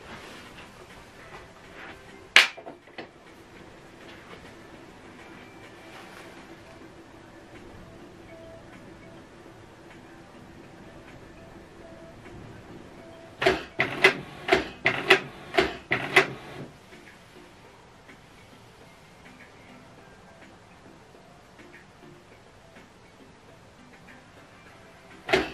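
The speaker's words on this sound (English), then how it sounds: "So right now it's printing out this photo" A Canon PIXMA TS3355 inkjet printer prints a photo, giving a rapid cluster of clicking and whirring mechanical bursts in the middle, with a single sharp click near the start and another at the end, over a quiet background.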